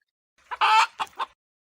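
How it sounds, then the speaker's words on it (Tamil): A chicken clucks in a short burst of four squawking calls, one longer and louder cry followed by quicker clucks, close and alone against silence. "என்ன இது கோழி கத்திக்கிட்டு கிடக்குது"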